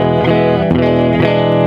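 A heavily distorted electric guitar through a Mesa Rectifier 2x12 cabinet impulse response on a Hotone Omni IR loader plays thick, sustained chords with a couple of quick changes, loud and close.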